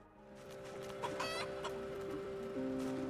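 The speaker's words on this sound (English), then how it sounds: "You are able to mate in 10 hours, Kikuchi Rooster" A rooster in the video game Project Zomboid clucks a few short times over a steady game ambience, with sustained electronic tones from the game underneath; no speech.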